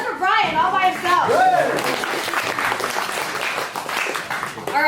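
An audience at a SOFAR Sounds concert in Phoenix breaks into sustained applause and cheering after a voice speaks over the start, the clapping filling the room at close range.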